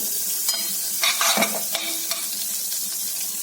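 Blue Band margarine melting in a pan for a creamy white sauce, a steady soft sizzle with a few scraping stirs and light utensil clicks close by, no voices.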